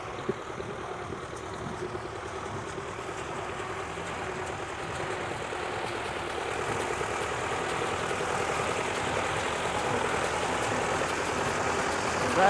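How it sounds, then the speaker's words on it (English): Old tractor-driven hay baler working alfalfa on an Uzbek farm at sunrise, a steady low engine drone with faint mechanical churning that swells slightly over time, heard from moderate distance without talk. "let's look at how the baler works"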